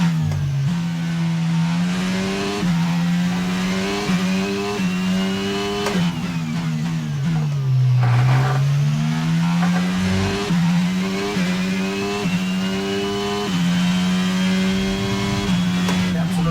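Formula 1 race car engine in the F1 22 video game, racing at the Mexican Grand Prix on PS5: loud, continuous high-pitched engine whine climbing through repeated gearshifts, with brief dips as revs drop and climb again, no talking.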